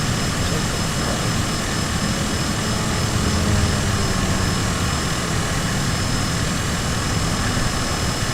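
A Cessna 172's piston engine drones loud and steady through the takeoff roll, heard from inside the cabin as a dense, unbroken roar with a voice faintly underneath.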